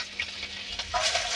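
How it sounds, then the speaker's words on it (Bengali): Chopped chilli and garlic hit hot oil left from frying chicken, setting off a sudden loud sizzle and hiss that builds and holds near and clear. "এবার আমি চিকেন ভাজা তেলে একটু লঙ্কা কুচি এবং রসুন কুচি দিয়ে দিলাম।"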